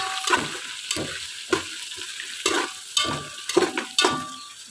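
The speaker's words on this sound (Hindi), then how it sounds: "पेस्ट डालने के बाद हम इसको अच्छे से भूनेंगे।" Garlic and ginger paste frying in a pan for spicy chicken biryani, a bright sizzle punctuated by roughly nine rhythmic scrapes and knocks of a spoon stirring, close and fairly loud with no talking.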